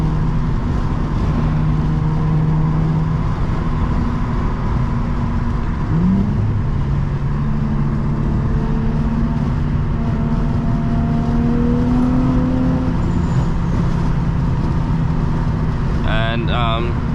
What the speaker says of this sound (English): y'all could hear the exhaust noise.